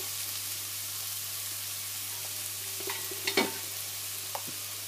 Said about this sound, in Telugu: ఈ రెండు వేసుకొని ఫ్రై చేసుకోవాలి.